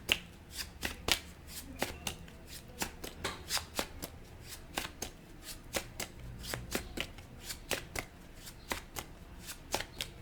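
Tarot cards shuffled by hand in a quick series of sharp, crisp riffles and slaps, steady and close, with no voices.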